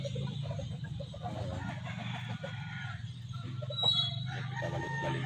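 Three hens clucking with a rooster crowing nearby, steady farmyard fowl calls at moderate level, with a person speaking quietly at times.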